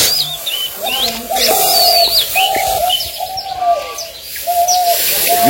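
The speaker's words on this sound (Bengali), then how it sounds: "এই যে পাখিরা ডাকে এটা কি পাখি" Birds call on a foggy village morning. Repeated low cooing, likely doves, mixes with scattered high chirps and tweets, close and fairly loud, with a voice speaking briefly over them.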